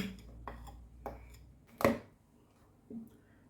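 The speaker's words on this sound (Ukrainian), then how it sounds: "Гарненько все перемішаю." Pancake batter of flour being mixed in a bowl, with a handful of soft separate taps and scrapes of the utensil, one slightly louder knock near the middle, quiet and close.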